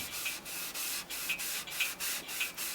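Rhythmic rubbing of linseed oil into sanded, raw untreated wood, a steady back-and-forth scrubbing with about nine close, even strokes.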